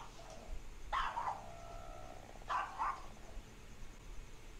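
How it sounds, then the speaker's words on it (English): A dog barks from a distance in two short bursts, the first near the one-second mark and the second about a second and a half later, faint over a low background hiss. "He's barking again."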